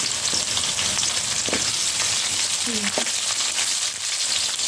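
Urad dal, chana dal and onions frying in hot oil for a coconut fried rice, a steady close sizzle with a few stirring clinks and scrapes throughout.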